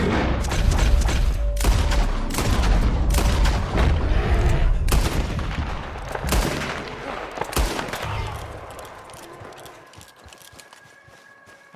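Rapid gunshots crack close and loud in Red Dead Redemption 2, a dense, uneven volley that thins out and fades toward the end.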